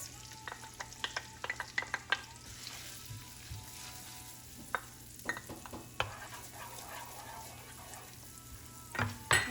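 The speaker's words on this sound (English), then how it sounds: "Add the onions." Onions cooking in a pan for a wild mushroom lasagna, a faint soft sizzle broken by sharp spoon clinks and scraping stirs, with a steady hum underneath.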